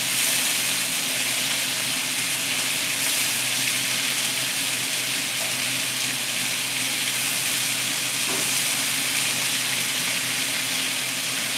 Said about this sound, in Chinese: 我咁樣煎咗佢，因為啲雞太熟啊。 我煎到佢有少少金黃，